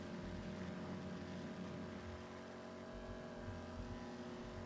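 A car engine in GTA 5 holds a steady hum as the car drives along, fairly quiet and continuous, with its tone shifting slightly partway through and no voices.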